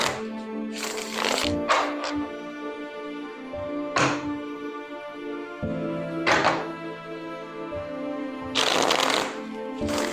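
Tarot cards are shuffled in several bursts, each a riffling flutter ending in a soft thunk as the deck is tapped or set down. The sound is close and clear over a steady hum, with no talk.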